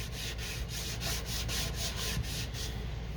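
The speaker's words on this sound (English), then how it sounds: "So, see, I'm gonna wipe it real quick." A wet wipe rubs glue off a vintage book page in a steady back-and-forth scrubbing rhythm, close and fairly loud, with about ten regular strokes and no talking.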